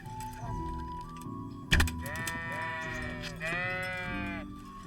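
Sheep bleating in the medieval role-playing game Kingdom Come: Deliverance, two drawn-out wavering bleats over a soft background music bed, with a sharp thud just before the first.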